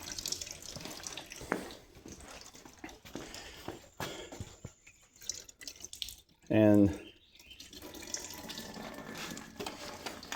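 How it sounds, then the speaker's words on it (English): Distilled water pours and flushes through the coolant system of a Versys-X 300 motorcycle, a steady trickling splash under brief talk, with one short loud gurgling burst midway. "is flushing through there with distilled water. So I'm just going to keep pouring"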